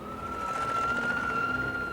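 A fire engine siren wails as the truck roars down back roads near Beaumont, Texas, a steady high tone over road and engine rumble, loud and close for a brief moment.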